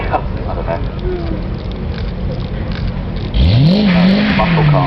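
A Chevrolet Corvette ZR1 muscle car at the Goodwood Festival of Speed revs up sharply from a busy crowd murmur, its engine note rising and holding loud and close for the last second and a half.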